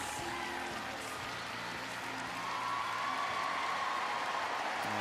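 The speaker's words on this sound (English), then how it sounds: "And you can see the audience just applauding them as the new world champions." Applause from an arena crowd at a Tokyo 2023 pairs figure skating event, a broad wash of clapping and crowd noise that swells slightly midway, with faint tonal sounds beneath.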